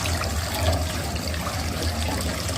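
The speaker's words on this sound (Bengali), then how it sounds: "এরকম পরিষ্কার জল বের হলে বুঝবো আমার ডোটা ধোয়া হয়ে" Water running steadily while a vegetable is being washed, a continuous close splashing rush like a tap pouring into a sink, constant in level with no talking.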